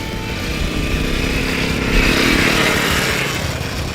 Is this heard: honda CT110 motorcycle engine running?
yes